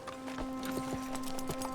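Horse hooves clip-clop steadily at a walking pace in Red Dead Redemption 2, a soft rhythmic series of hoof strikes over a low, constant game background hum.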